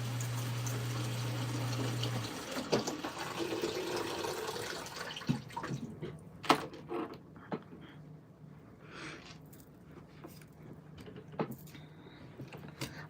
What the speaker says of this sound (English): let me cut this water off